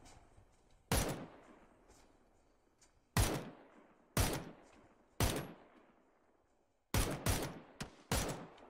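Gunfire in the video game PUBG: sharp single shots with echoing tails, spaced irregularly, then a quicker cluster of shots near the end, fairly close and loud.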